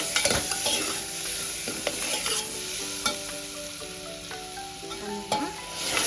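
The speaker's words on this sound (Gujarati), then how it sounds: "ધાણા જીરું ને ખાલી મીઠું અને મરચાંની ભૂકી કરી અને આપણે વઘાર કરી દઈએ." Spices such as coriander, cumin, salt and chili powder sputter and sizzle as they hit hot oil, with scraping stirring clicks and a sharp crackle, close up and without talk.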